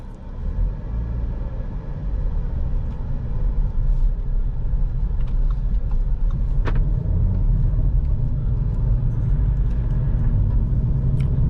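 A 2020 Audi A3 Sportback 35 TFSI's 1.5-litre 150 hp petrol engine hums steadily with low road rumble throughout, a continuous interior drone with no talking.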